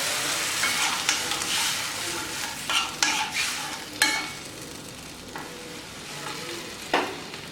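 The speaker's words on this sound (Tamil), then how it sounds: "அது இன்னும் கொஞ்சம் தக்காளி வேகிற வரைக்கும் கொதிக்க விடுங்க." Tomato rasam cooks in a pan with a steady bubbling sizzle, broken by several sharp utensil clanks and stirring scrapes.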